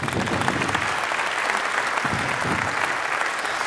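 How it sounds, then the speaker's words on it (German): Steady, dense applause from a large audience, many hands clapping continuously at an even level throughout. "Jetzt kriege ich so einen tollen Applaus"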